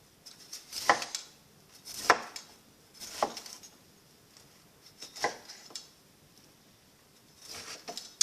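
A knife chopping cauliflower into florets on a board, with sharp, well-spaced cutting thuds about once a second, close and clear with quiet pauses between strokes.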